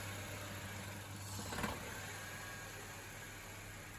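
A car engine idles roughly during HHO hydrogen carbon cleaning, a steady low hum with a brief surge midway as it threatens to stall, quiet and close.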